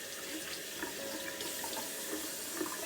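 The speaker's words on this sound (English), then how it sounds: "So then I'm going to rinse this in cold salt water." Cold tap water runs steadily into a kitchen sink as raw shrimp are rinsed, a constant close splashing hiss with no pauses.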